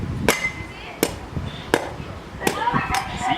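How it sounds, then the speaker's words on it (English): Five sharp, hard machete chops strike a coconut at a steady pace, each a crisp thwack on the dense husk, with quiet rustling between blows. "So coconut take long to chop"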